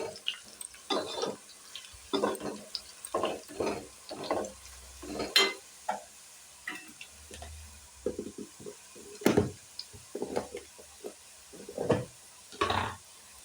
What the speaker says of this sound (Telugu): ఇప్పుడు అల్లం చిన్నుల్లిపాయ పేస్ట్ వేద్దాం.